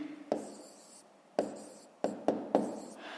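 A pen writes a fraction by hand on paper in short scratchy strokes, several separate taps and scribbles spaced over a few seconds, close and quiet with no talking.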